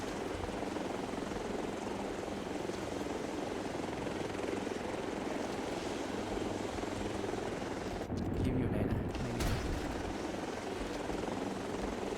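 A helicopter flying in the shooter game Delta Force, a steady, loud rotor drone throughout with a deep thrum and a brief dip and surge near the end, with someone talking over it.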